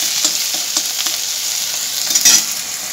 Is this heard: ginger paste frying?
yes